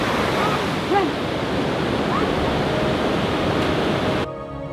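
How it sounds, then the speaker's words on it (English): A powerful waterfall pouring down the mountainside at Geirangerfjord, Norway, heard as a steady broadband roar that fills the scene, with a brief bird call and some wind buffeting the microphone. "It's decently loud because it's really flowing this waterfall."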